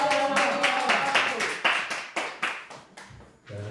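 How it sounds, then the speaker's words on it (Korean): A church congregation claps in a run of sharp bursts that thin out toward the end, with talk mixed in. "우리 오빠들만 다시 한번 환호성"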